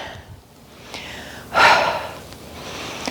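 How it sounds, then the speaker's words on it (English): A sharp, breathy intake of air followed by a louder, rushing exhale during a Pilates barre class, close and distinct against a quiet room. "Nice big inhale and exhale."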